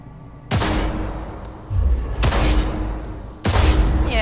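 Three loud gunshots from a gun in the video game Cyberpunk 2077, fired singly about a second and a half apart, each a sharp crack with a short rumbling tail, with no talk.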